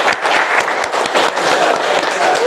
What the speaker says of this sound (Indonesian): untuk kelompok 2 yang diperwakili oleh Indri, kita beri tepuk tangan sekali lagi.